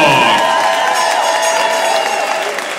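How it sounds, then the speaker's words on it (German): Boxing crowd applauding and cheering a young fighter in the red corner at a gym event, loud sustained clapping with shouts and whistles on top, easing slightly near the end. "Applaus für den jungen Mann in der roten Ecke"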